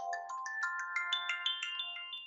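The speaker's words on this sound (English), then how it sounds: "That's not my phone, that's my timer" A timer alarm rings at a health and care partnership board meeting, playing a bright, repeating melodic chime of quick rising notes, clear and alone, with no talking.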